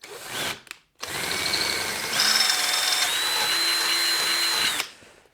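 A power drill bores an 8mm hole straight through a DRZ400 motorcycle part, a loud close whine after a brief trigger blip, holding steady for about four seconds before stopping.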